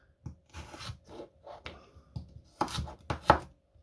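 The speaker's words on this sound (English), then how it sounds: "So just kind of slice these down." A knife slicing food on a cutting board while preparing a slow-cooker Mongolian beef stew, giving a few irregular, close, crisp chopping knocks with short pauses and no talking.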